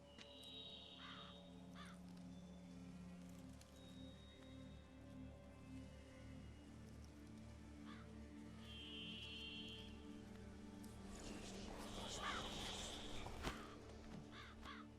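Crows cawing in The Witcher 3, a few harsh calls at moderate distance over a steady ambient bed with light rain, the caws recurring every few seconds.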